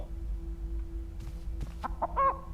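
Chickens clucking in the video game Chicken Feet, a few short clucks and squawks that rise near the end over a low steady hum, with no talking.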